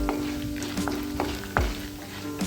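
Red chillies and urad dal sizzle in oil in a pan, a steady close frying crackle broken by several scraping stirs of a spoon across the pan.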